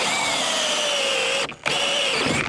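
A power drill bores a 3.5-inch hole through a stock tank, whining steadily and loudly at high pitch with a sustained tone, briefly cutting out for a moment before spinning back up.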